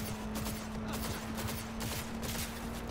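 Rapid gunfire rattles in Cyberpunk as a fusillade of dense, overlapping shots fills the whole moment, loud and close over a constant low hum.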